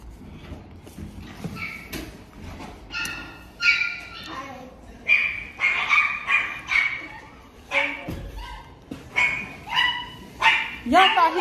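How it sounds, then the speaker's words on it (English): Dogs bark and yip repeatedly in short bursts, fairly close, with some whimpering and people talking in the background. "Dogs barking."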